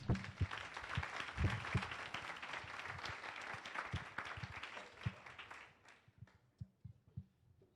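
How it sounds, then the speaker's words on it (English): A conference audience gives a round of applause, a full, dense clapping that runs for several seconds and then thins out into a few scattered, isolated claps before fading. "A round of applause, please"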